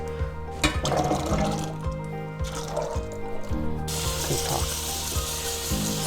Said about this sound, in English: the first thing we got to do is drain the beans and rinse them